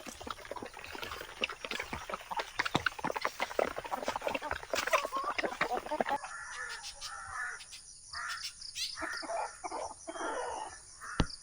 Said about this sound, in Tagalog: Yung mga uwak, hinahabol ng gitgit.